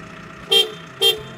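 A car horn honks twice, two short, sharp blasts about half a second apart, loud and close over a low background hum.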